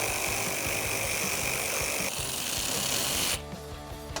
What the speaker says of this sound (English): I'm going to use a 10mm socket to remove that